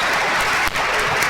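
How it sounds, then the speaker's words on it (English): A round of applause from the crowd at a men's college basketball game, Blue Dragons against Neosho County, as a player heads to the bench; dense, loud clapping throughout with a brief dip midway. "T. Brown getting a round of applause as he checks out of the ball game"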